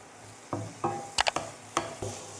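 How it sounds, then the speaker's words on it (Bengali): Vegetables stir-fried in a pan for Bengali-style veg fried rice, with a run of sharp scraping and tossing bursts over a low sizzle, ending in a louder clatter. "এবার সুন্দরভাবে ভেজিসগুলো ফ্রাই করব"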